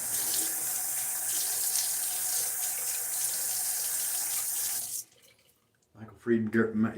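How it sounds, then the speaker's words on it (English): Tap water runs steadily into a sink while a face is wetted before a shave, a loud continuous splashing rush that stops abruptly, followed by a short pause and then a voice speaking. "Let me get my face wet."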